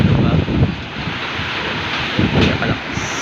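Strong typhoon wind roars in Quirino, a loud continuous rushing blast buffeting the microphone with heavier gusts surging now and then, no voices over it.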